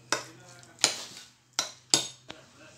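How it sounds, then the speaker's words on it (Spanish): A utensil mixes a tuna filling for a cold cake in a bowl, striking the side in about five sharp, separate clinks with short pauses between, close and clear. "Y lo vamos a mezclar bien"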